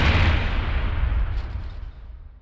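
A toy brick-wall cannon built from Lego fires at zombies, giving a loud, heavy booming blast with a rumbling low-end tail that fades over about two seconds, with no talking.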